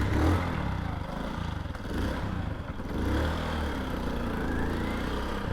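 An old family motorcycle rides through a village at dawn, its engine giving a steady, close droning rumble that swells slightly as it moves along, with no talk.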